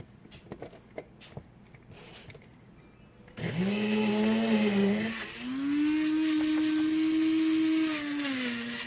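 An electric spice grinder whirs loudly as it blends garlic and jalapeno powder, starting abruptly after a few quiet knocks and holding a steady high motor whine that rises slightly in pitch partway through.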